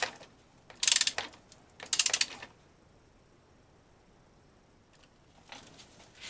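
Ratcheting bursts from a tool tightening a bolt on the rear sprocket of a BMW F850GS motorcycle, two close clicking runs near the start and a fainter one near the end, with quiet gaps between.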